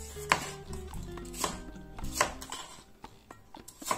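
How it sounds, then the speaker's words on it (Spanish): A knife finely chops two garlic cloves and half a green pepper on a cutting board, giving close, quiet, irregular taps in quick bursts with short gaps between them. "Para la salsa de tomate vamos a cortar finamente 2 dientes de ajo, el medio pimiento verde restante"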